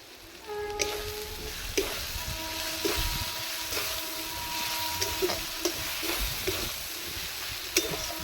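Dried chilli flakes are stirred into a frying pan for chicken maharani, with a steady sizzle under light intermittent scrapes and taps of the spoon, close by.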